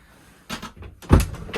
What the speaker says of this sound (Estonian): ukse saad ka kinni panna, kui lähed siia